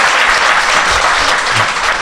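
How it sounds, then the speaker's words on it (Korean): Loud, dense audience applause from a studio crowd at a Korean political talk show, a continuous roar of many hands clapping together for the full stretch with no voices on top. "박수 한번 부탁드립니다."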